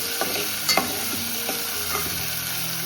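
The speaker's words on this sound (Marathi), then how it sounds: "वाटण टाकून झाल्यावर आपण मिक्स करायचं तेलामध्ये फ्राय करून घ्यायचं" Ground masala paste frying in oil in a pan for a monsoon keval amti, a steady close sizzle broken by a few quick scraping stirs of a spatula.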